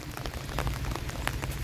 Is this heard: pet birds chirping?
no